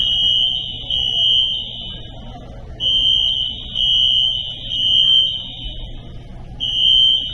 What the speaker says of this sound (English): Alright guys, so the fire alarm went off in the airport.